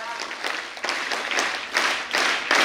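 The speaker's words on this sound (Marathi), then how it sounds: "जोरदार टाळ्या।" Audience applause at a felicitation ceremony during a career-guidance lecture event, with a crowd clapping in waves of broad, rustling bursts that swell and recede through the whole stretch.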